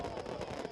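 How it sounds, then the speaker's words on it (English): Fireworks crackle and burst in a dense, continuous flurry, loud and rough, in a Halloween scene on a railway island. "They love Sir Topham Hatt's fireworks"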